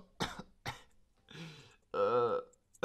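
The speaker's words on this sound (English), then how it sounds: "When I cough," Several coughs and throat-clearing sounds in a short comedic skit about a British child with a cold: two sharp coughs, then rougher, longer hacking bursts with a voiced, throaty quality, close to the microphone.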